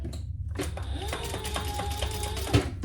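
A sewing machine stitches a D-ring closed for a handmade holiday gift, its needle running in a steady rapid rhythm of close, moderately loud clatter with a brief thump near the end.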